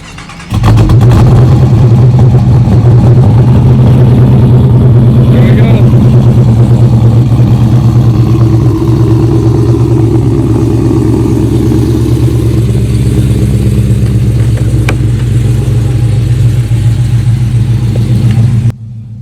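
A cammed Dodge Charger R/T V8 is warm-started and fires almost at once, settling into a loud, lumpy, choppy idle that rumbles steadily close by, with a person talking over it.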